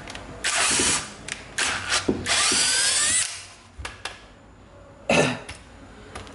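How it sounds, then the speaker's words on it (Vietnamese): A Japanese domestic-market cordless battery drill with a poorly fitting battery and a dull bit whirs in loud, close bursts that start, stall and restart, with ratcheting clicks and brief pauses between runs. "Cái mũi khoan này khoan không ngon các bạn."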